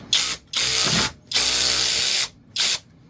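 A SeeSii cordless power ratchet wrench loosens a stuck nut in three loud, close motor bursts separated by short pauses, with a whirring, ratcheting buzz and no talking.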